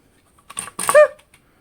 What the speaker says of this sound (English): So I'm going to stamp on my lid